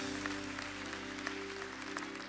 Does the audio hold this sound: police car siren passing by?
no